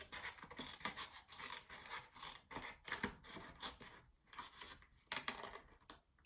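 Paper being cut with scissors for a pocket of a shaker mini album, a close, quiet series of rasping snips and rubbing strokes in uneven bursts with short pauses.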